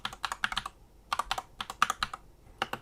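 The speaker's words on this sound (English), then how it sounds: "So to do that, we type in net" A command being typed on a computer keyboard during Windows 11 setup, with close, quick key clicks coming in short irregular bursts with brief pauses between them.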